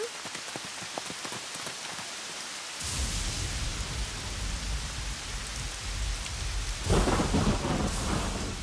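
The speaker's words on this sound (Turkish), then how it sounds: "Bu yağmur duracak gibi değil." Heavy rain pours during a thunderstorm in a Turkish children's cartoon about the Robocar Poli rescue team, a steady loud downpour that swells abruptly with a rumbling thunder burst, then a sharper crack near the end, with no talking.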